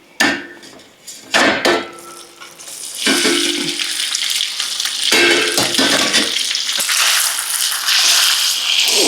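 Cooked pasta and pancetta sizzling in a hot pan for carbonara, with a few clattering knocks as the noodles go in, then a steady loud frying hiss.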